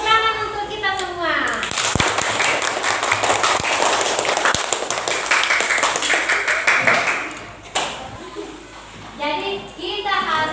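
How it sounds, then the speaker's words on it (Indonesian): Classroom participants, children with their teacher, burst into a loud round of clapping mixed with chatter and shouts, a busy crackle of hands lasting several seconds before voices take over again. "Tepuk tangan untuk kita semua"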